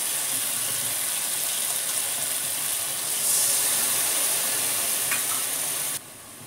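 Spice paste stirred into water is poured into a pan of fried onions and tomatoes, giving a loud, steady sizzle that swells partway through and cuts off abruptly near the end, with no talking.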